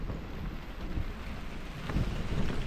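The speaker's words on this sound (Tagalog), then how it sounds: "Kasi kanina pa yun kumukulog eh." Steady rain pours with rumbling thunder on a mountain climb, a dense continuous wash of noise that swells slightly near the end, with no voices.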